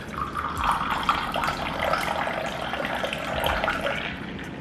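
Water pouring smoothly from a kettle over pour-over coffee, a steady close stream with a soft hiss that continues unbroken throughout.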